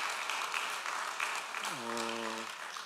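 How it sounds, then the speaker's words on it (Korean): Congregation in a Korean church service clapping in a soft, even patter at a distance, with a brief sustained organ or keyboard chord sounding midway. "우리 박수 한번 하겠습니다."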